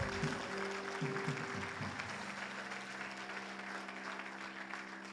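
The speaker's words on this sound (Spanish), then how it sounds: "dale un aplauso a Dios" Church congregation applauding God during a Spanish-language sermon, a steady broadband wash of many hands clapping throughout, fairly distant, with a sustained organ or keyboard tone under it early on.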